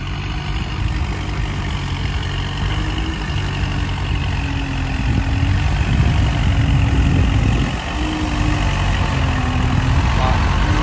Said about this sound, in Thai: เสียงจะเงียบนะครับสำหรับ เครื่องยนต์สี่สูบครับ